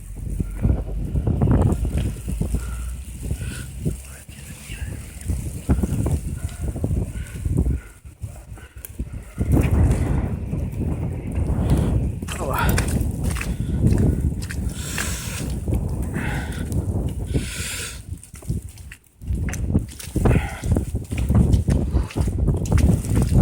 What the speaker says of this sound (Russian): Слушайте, а дует красиво. Дует так, что можно и сыграть,